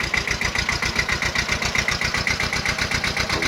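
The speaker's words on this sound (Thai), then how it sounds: "ไม่ต้องมองหัวครับเครื่องยนต์ติดง่ายมิซูบิชิ ตัวเล็กแต่14 แรงเครื่องยนต์2สูบครับผม" An old Japanese Mitsubishi Beaver tractor with a small two-cylinder 14 hp engine idles close by in a steady, rapid, even chugging rhythm, with no voices.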